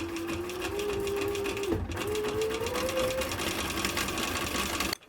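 A sewing machine stitching leather for work gloves runs in a continuous rapid mechanical whir with a rising motor tone, pauses briefly, then carries on before stopping at the end.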